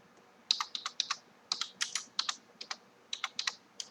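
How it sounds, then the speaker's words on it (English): Close, crisp keystrokes on a computer keyboard typing a short command prompt entry, about twenty quick taps in small uneven clusters with no voices. "Type in color and then enter."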